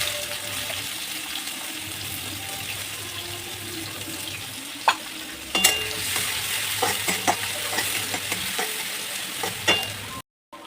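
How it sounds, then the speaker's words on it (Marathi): Chopped onion and cumin fry in hot oil, a steady close sizzle with scattered stirring clinks and scrapes of a utensil against the pan. "त्याचबरोबर जिरे ॲड करायचं तेलात बारीक चिरलेला कांदा"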